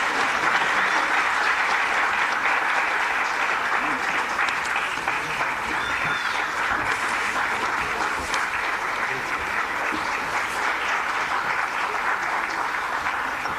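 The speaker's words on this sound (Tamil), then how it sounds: "நல்லா கைதட்டுங்க மேடம்." Sustained audience applause at a Delhi Tamil Sangam felicitation ceremony, a steady, even wash of many hands clapping for over thirteen seconds with faint voices beneath.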